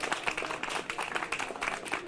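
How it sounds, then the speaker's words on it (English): A concert hall audience applauds wildly during a standing ovation: dense, steady clapping from many hands, heard from within the crowd without a break. "they were clapping like mad"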